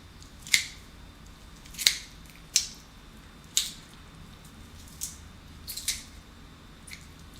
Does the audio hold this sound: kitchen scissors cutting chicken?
yes